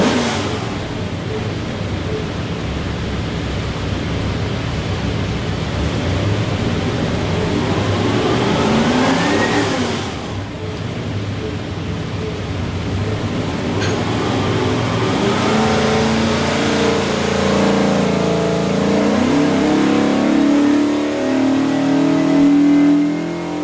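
A 427ci small block Ford V8 built for a 1970 Boss 302 Mustang roars through a dyno pull, loud and sustained, engine pitch climbing, dipping around the midpoint, then sweeping up again to high revs.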